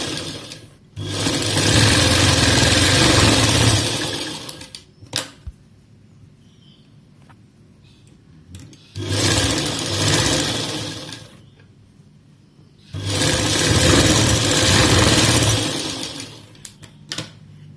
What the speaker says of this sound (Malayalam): ഒന്നുകൂടെ ഒരു 2 സ്റ്റിച്ച് കൊടുക്കുക, കാരണം വിട്ടു പോവാൻ വേണ്ടിയിട്ട്